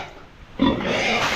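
Native pigs being bathed, a short burst of grunting and squealing that starts abruptly after a quiet moment, close and fairly loud.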